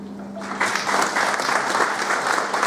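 A crowd at a journalists' gathering in Burhanpur breaks into loud, sustained applause, dense clapping that swells after a moment and holds steady, with a faint hum beneath.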